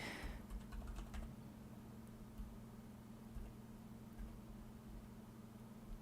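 A computer keyboard is typed on quietly, with a brief cluster of key presses near the start and a few scattered taps after, over a low steady hum.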